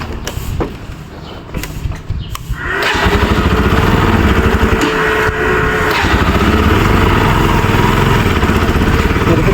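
A motorbike engine starts after a few clicks and knocks, then idles with a loud, steady, throbbing putter close by, with no talk.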